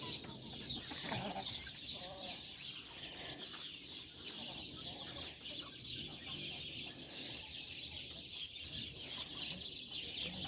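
Chickens cluck and murmur in a busy coop, with scattered clucks over a constant hiss and faint voices in the background.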